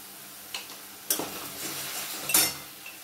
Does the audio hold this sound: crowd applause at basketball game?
no